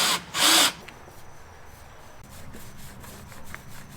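Grinding from nearby construction, as if a house were being ground up, starts as a loud brief burst near the beginning, then continues as a softer, steady rumbling drone in the background.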